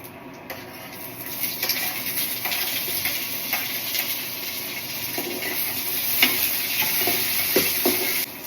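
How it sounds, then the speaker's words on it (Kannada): Onions sizzling in a pan, a steady soft frying hiss with occasional scrapes and clicks of stirring, close and even throughout, with no speech. "ಫಸ್ಟ್ ಈರುಳ್ಳಿ ಇದನ್ನೆಲ್ಲ ಹಾಕೊಂಡ್ಬಿಡೋಣಂತೆ."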